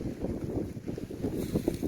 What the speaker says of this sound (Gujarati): હવે સાંભળો પવનને